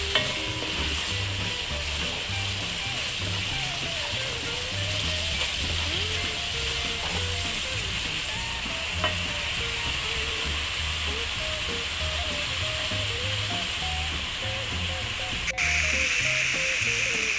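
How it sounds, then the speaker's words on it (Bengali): Spice masala with turmeric fries and is stirred in a pan for a coconut-milk bain fish dish, a steady close sizzle running throughout with rhythmic scraping and stirring strokes, alone without talk. "সব মশলা দেওয়ার পরে এটাকে আমরা ভালো করে একটু ভুনে নেব।"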